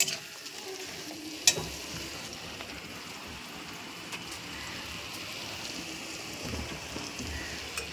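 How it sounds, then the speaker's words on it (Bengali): Turmeric and chilli paste frying in a pan for a fish curry gives a soft, steady sizzle throughout, with one brief sharp click early on and no voices. "দেখা যাচ্ছে নাকি মশলাগুলা ভাজা হয়ে গেছে।"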